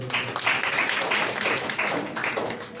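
A church congregation claps during a Sunday service, a steady run of moderately loud, rhythmic group clapping with pulsing swells, filling the room without any voices on top.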